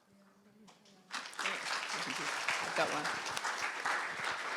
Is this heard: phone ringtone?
no